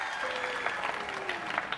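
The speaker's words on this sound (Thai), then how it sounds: "ขอเสียงปรบมือกับน้องเบลล่าครับ" Studio audience on a Thai TV singing competition show applauding, a dense, steady burst of clapping heard up close throughout.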